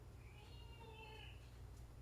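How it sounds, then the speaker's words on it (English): A house cat meows in one drawn-out, wavering cry at moderate distance indoors over a steady low hum, with a faint second call near the end. "And my cat is yelling at me."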